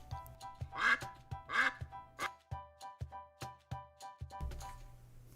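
A duckling on a farm quacks in a steady series of short, evenly spaced calls, about a dozen near and clear, with a couple of louder, brighter quacks early on.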